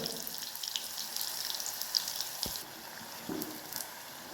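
Chili pakoras, or bhaji, fry in oil over a low flame with a steady close sizzle. A brief clink of utensils cuts in partway through.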